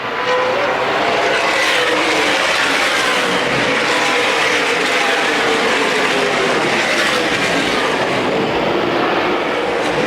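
CRA Super Series stock cars roar around the track at the 2010 Winchester 400 in a loud, continuous engine drone, with no break in the noise.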